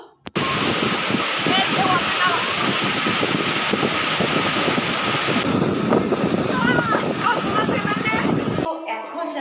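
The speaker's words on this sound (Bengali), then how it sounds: "পুরীর সাথে এই এই ঢেউয়ের কোনো তুলনা হয় না পেছনের ঢেউগুলো দেখছো কত বড় বড়" Big sea waves crash and roar continuously on the beach at Puri, a loud, steady wash of surf with wind buffeting the microphone, ending abruptly.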